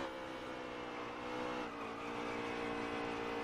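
A NASCAR Heat 3 race game roars with engines at full throttle and tires scrubbing through a crash and spin on track, a dense, loud, continuous car noise with no talking.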